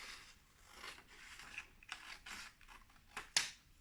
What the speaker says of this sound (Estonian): Kõigepealt võta kääridega, lõika paberist välja